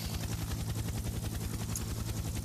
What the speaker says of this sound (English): And, of course, the appropriate helicopter noise as well.